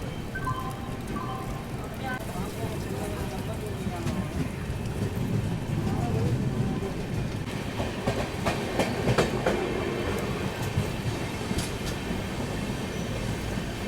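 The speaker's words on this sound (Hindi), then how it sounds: "हमारी train Barabanki junction railway station से निकली है। प्लेटफॉर्म क्रमांक 1 पर आ रही है।" The Rapti Sagar SF Express, train 12511, rolls into platform 1 at Barabanki Junction with a steady rumble, rhythmic clickety-clack and brief wheel squeals. Faint voices sit under the noise.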